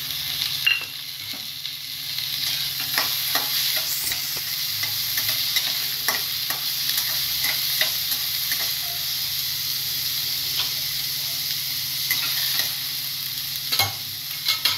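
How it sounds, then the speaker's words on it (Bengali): Onion and tomato sizzle steadily in hot oil for egg tarka, under sharp, irregular scrapes and clicks from a spoon stirring the pan, close and continuous with no talking. "পেঁয়াজটা একটু ভেজে নিচ্ছি। এরপর টমেটোটা দিচ্ছি।"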